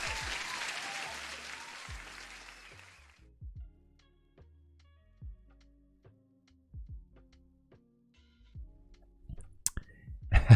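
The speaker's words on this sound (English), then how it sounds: "I just gave you an applause" Applause sound effect played during a live day-trading stream: a burst of clapping and cheering for about three seconds that fades out, followed by scattered low clicks and thumps.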